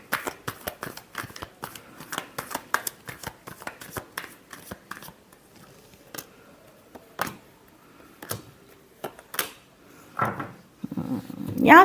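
Tarot cards are shuffled by hand up close, giving quick bursts of crisp riffling and slapping that thin out into sparse taps with quiet pauses between.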